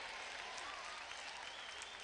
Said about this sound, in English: I have no idea why they're clapping that we just took out a huge loan.